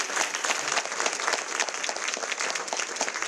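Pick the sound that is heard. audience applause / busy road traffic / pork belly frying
audience applause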